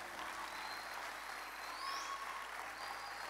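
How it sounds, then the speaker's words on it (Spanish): A church audience claps in steady, moderate applause, a continuous patter of many hands that holds at an even level for a few seconds without voices over it. "Qué trucho ese aplauso."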